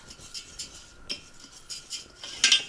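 A utensil scrapes and taps against a pan while jasmine rice is stirred into oil, in light irregular strokes close by, with a brighter clatter near the end and no voices.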